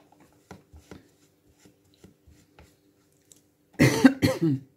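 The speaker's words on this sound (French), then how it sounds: "Depuis que je suis levée, j'arrête pas de tousser." A few faint taps and rustles, then a burst of harsh coughing near the end, two or three rough coughs close by.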